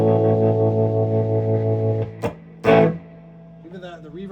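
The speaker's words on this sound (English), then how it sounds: "It's a real kind of warbly, like real nice, you know, like distorted," Electric guitar played through a Silvertone amp with a warbly, distorted tremolo tone: sustained wobbling chords ring out, then break into a couple of sharp strums and a short, fainter trailing phrase, all close and loud with no talking.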